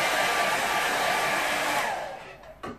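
A hair dryer blows on a watercolour painting for a quick burst, a loud steady rush of air that cuts off and winds down after about two seconds, followed by a small knock.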